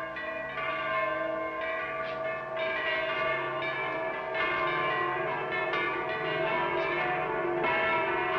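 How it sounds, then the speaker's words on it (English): Church bells ring continuously, several overlapping bell tones clanging and sustaining in a steady peal at a fairly loud, full level with no voices. "Henry, tell the sexton to sound all the church bells"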